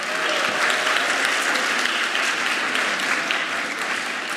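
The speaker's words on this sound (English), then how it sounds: "Can we get another round of applause for them?" An audience at an evening speech competition gives the speakers a full round of applause, dense steady clapping from many hands that holds at an even level throughout.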